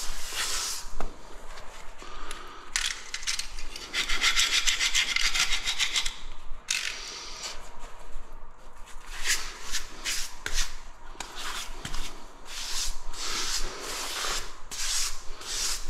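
Light rubbing and wiping across a tiled surface that has been cleaned off ahead of grouting, a steady close scuffing swish in uneven strokes that runs almost continuously with short pauses.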